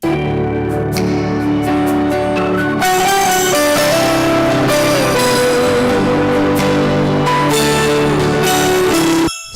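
A full, loud band recording of a gospel worship song intro plays continuously, with layered guitar and sustained tones driving through the section, no voices.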